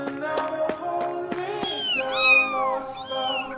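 A newborn black kitten gives a series of short, close, high meows, first as quick rhythmic chirps and then as longer rising and falling cries.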